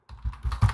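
Quick burst of four or five keystrokes on a computer keyboard, close and clear, typing a text label with no speech over it.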